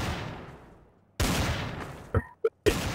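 Gunfire in the video game Trouble in Terrorist Town: a loud burst of rapid shots that fades, then another burst followed by two short sharp single shots and a final burst.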